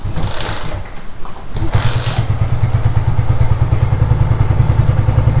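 Honda Tiger motorcycle engine idling steadily up close, a loud, even low throb with a rapid regular pulse and some mechanical clatter, rising slightly after a brief dip early on.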